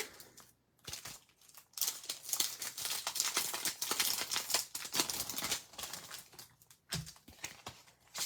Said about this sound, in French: Je vais tout vous déballer ça.